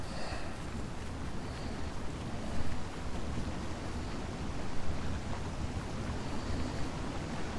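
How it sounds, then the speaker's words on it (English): A waterfall in the online game Lord of the Rings Online roars steadily, a dense, even rush of falling water with no voices over it. "There's this nice waterfall over here, by the way."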